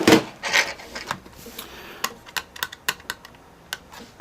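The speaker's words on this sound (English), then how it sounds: "Here's where I go crazy unscrewing things" A computer is taken apart by unscrewing its screws, giving a run of quick, sharp clicks and small scraping taps close up, irregular at first and then faster.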